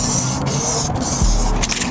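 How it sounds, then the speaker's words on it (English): Aerosol spray paint can hissing as a coat goes onto a BMW E90-series engine cover, a loud close broadband spray in short bursts with brief pauses between passes. "just spray it on"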